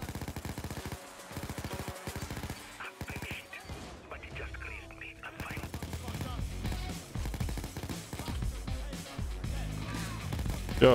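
Minigun dozer enemies in a video game fire long, rapid bursts of machine-gun fire, loud and dense, with a player's voice talking over the battle sounds.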